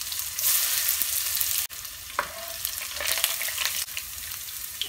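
Chopped ginger sizzles in hot oil at the start of a Pakistani chicken fry, a close, continuous hiss and crackle with a few sharp pops and brief clinks over it.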